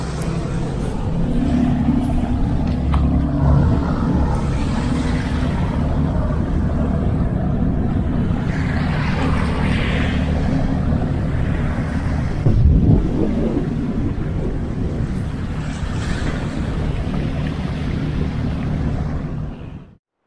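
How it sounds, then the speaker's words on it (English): A boat's engine drones steadily as it departs Folegandros island on the open Aegean Sea, wind buffeting the microphone, a low rumble that holds throughout before cutting off at the end. "And look what's leaving. The boat, along with most of the people."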